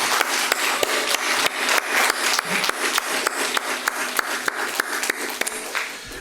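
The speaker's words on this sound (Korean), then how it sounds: "큰 박수로 환영하기 원합니다" A church congregation at a 2022 Sunday worship service applauds to welcome a newcomer, with steady, close hand claps packed into a lively, fairly loud round.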